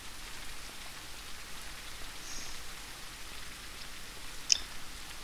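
Rain falling in the survival video game Surroundead, a faint, steady hiss of drops with one brief sharp tick near the end and no voices.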